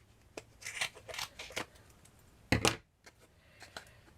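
Scissors snipping through bunches of doll hair during doll-making, a few quiet close snips followed by one louder, sharper cut, with no talking.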